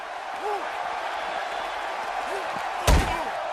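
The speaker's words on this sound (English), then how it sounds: "Into the table goes Kidd." A wrestler slammed into a table in the WWE 2K17 video game: one loud, sharp crash near the end, over a steady arena crowd roar.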